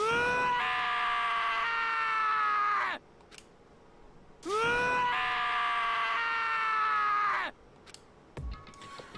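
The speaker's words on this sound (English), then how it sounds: "screams invaded our skulls" Two long, loud screams from a character during an execution scene in the video game Danganronpa, each lasting about three seconds with a pause between, followed by faint clicks and thuds.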